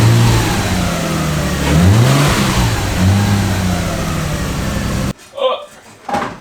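A swapped-motor Nissan R32 Skyline engine revs loudly and steadily on a test drive, a car with a boost problem, its rising pitch sweeping up twice before cutting off, followed by a few faint, brief sounds.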